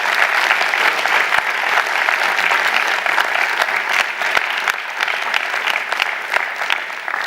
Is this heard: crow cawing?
no